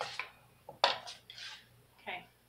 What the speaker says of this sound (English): whisk it like you're making scrambled eggs